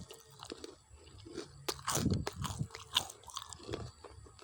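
Crispy Kentucky-style fried oyster mushrooms being bitten and chewed close up, giving a series of loud, sharp crunches that peak in the middle and then settle into softer chewing, with no talking.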